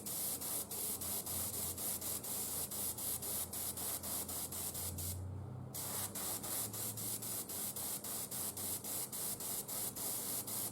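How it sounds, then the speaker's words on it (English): An airbrush sprays paint onto an Imperial Knight model in a burnt metal effect, giving a steady close hiss interrupted by short rapid pulses and one brief pause near the middle. "then we are spraying from the upper 1/3"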